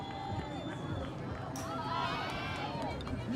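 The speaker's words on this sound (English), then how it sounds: "We'll let you listen to the crowd." Crowd at the 2020 Spirit of the Sandhills softball tournament, a mix of cheering and scattered voices over a steady murmur, with people talking throughout.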